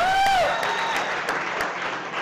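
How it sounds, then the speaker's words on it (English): Audience applause for chef Paul Boucher of Mise en Place at a chef competition showdown, a dense, steady wash of clapping that follows a brief whooping voice and stays fairly loud throughout. "Big round of applause for Paul Boucher from Mise"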